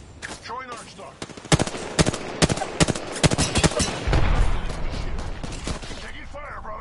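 Rapid gunfire in the Apex Legends battle game cracks out in sharp, closely spaced shots, then merges into a dense, continuous barrage, with a voice speaking over it.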